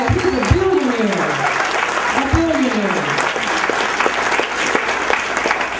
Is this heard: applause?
yes